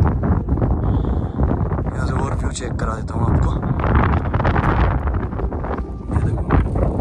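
Strong wind gusts at a high viewpoint in Ladakh buffet the microphone with a steady roar throughout, under someone talking.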